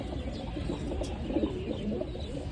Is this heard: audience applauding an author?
no